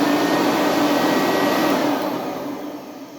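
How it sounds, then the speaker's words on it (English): Fan of a 2007 Eureka Commercial C2094 upright vacuum cleaner runs with the brush roll lifted off the carpet, a steady, close whooshing drone that eases slightly lower toward the end. "when you turn it on and you're not touching the carpet, it does not make any noise other than the fan"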